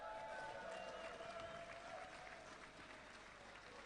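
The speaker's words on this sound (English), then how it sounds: "Round of applause." Sustained audience applause from a crowd at an ECL Blackpool Halo Reach esports event, dense steady clapping throughout at a fairly even level, tapering slightly toward the end.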